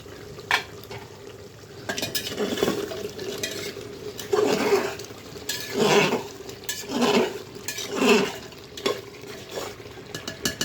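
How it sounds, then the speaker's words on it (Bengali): Beef being stirred in an open pressure cooker pot, with a spoon scraping and clinking against the metal in repeated bursts over a low background hiss. "এবারে ঢাকনা খুলে নাড়িয়ে দেবো।"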